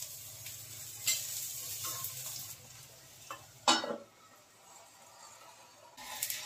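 Radish-stuffed paratha frying in a pan, a soft close sizzle with a few scraping stirs and brief clatters of a spatula, no talk.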